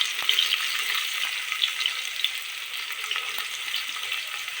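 Chopped onion frying in hot oil with cumin and garlic for dal khichdi gives a steady, close crackling sizzle with small pops throughout, and no voices.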